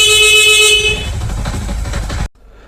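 The horn on a Honda 70 motorbike with a modified dipper switch sounds in a steady electric tone for about a second, close and loud, fading into engine-like rumble before cutting off abruptly.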